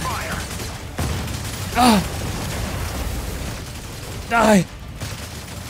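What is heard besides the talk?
gunfire from mech weapons in video game Mecha Break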